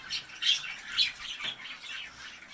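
Pet birds in an indoor critter room squawk in a run of short, sharp calls close by, with faint rustling between them.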